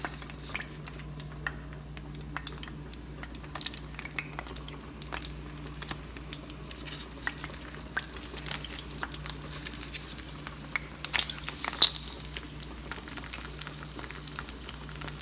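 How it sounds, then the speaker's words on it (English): Soft, steady crackling and patter of flautas frying in hot vegetable oil, with scattered small pops over a low constant hum. "I put my flautas in vegetable oil to fry"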